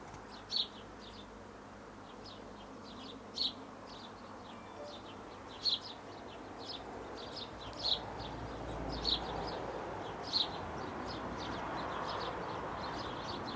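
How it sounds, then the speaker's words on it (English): Birds calling outdoors among trees, picked up in a stereo field recording: short, bright chirps repeat every few seconds, some near and some farther off, over a steady outdoor hiss with a few slightly louder calls standing out. "Bird over here."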